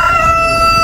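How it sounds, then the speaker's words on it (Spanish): A rooster among geese, ducks and hens at a livestock market in Aguilares, El Salvador, one loud sustained crow filling the moment, close and strong. "Ahí está un gallo, ve."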